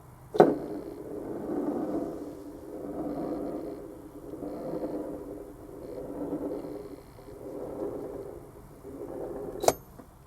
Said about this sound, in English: You could really spin it hard and get this thing running for a couple of minutes